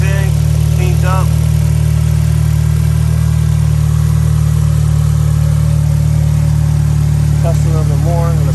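Acura TSX engine idling steadily up close after new fuel injectors, a constant loud low hum throughout with faint voices briefly over it.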